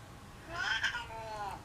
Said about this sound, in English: count how many times Artemis meows in 1 minute